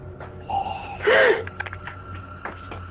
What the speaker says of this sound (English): that sounds more like a rasp than heavy breathing